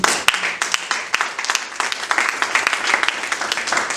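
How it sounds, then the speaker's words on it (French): Applause and clapping from a church congregation at a Full Gospel service in Togo, a steady crowd clatter lasting the whole stretch with sharp individual claps standing out and a faint voice underneath. "Je les acclame très fort."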